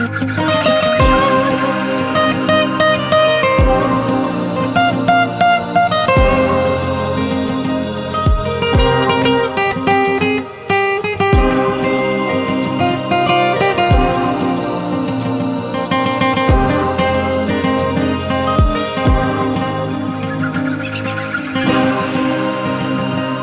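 Double-tracked electric guitar, a Fender Strat run through a UAFX Dream 65 pedal, playing a full, wide part within a finished track over a steady beat, loud and continuous with no talking.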